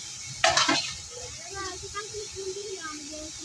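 Bottle gourd sizzling and stewing in a pan with only a little added water, a soft steady hiss with light bubbling pops and one sharp clatter of a utensil against the pan near the start.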